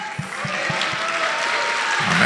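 Congregation applause in a church service, a steady broadband patter of clapping with a few low thumps early on, moderately loud and continuous for a couple of seconds.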